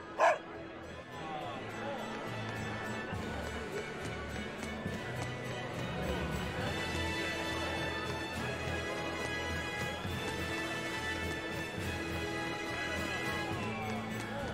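Dogs in the video game Tales of Berseria bark and yip steadily over game music and ambience, moderately loud and close, with a voice talking over parts of it.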